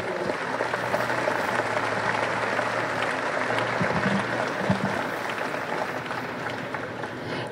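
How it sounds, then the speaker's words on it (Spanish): An outdoor crowd claps at a ceremony handing over uniforms and vehicles to a public security department, a broad, even wash of applause that holds steady, heard from a distance rather than close up. "Un fuerte aplauso y muchísimas felicidades a todas y todos."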